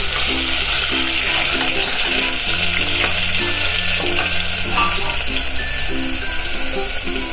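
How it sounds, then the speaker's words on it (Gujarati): Garlic, ginger and chili paste frying in hot oil with asafoetida, a loud, dense, continuous sizzle with crackling bursts throughout and a faint tonal hum underneath. "પછી આપણે નાખશું લસણ આદુ મરચાની પેસ્ટ"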